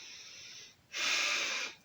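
A person demonstrates bad breathing with a loud, harsh, wheezy inhale-like rush, a soft breath first, then a strong close breath lasting nearly a second.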